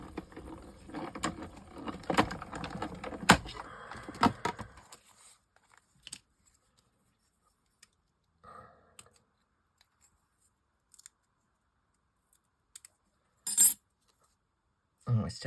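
Scissors cut through layered tissue paper for a mixed-media piece, giving a close run of crisp snips and rustling for several seconds, then a few sparse, faint paper handling sounds.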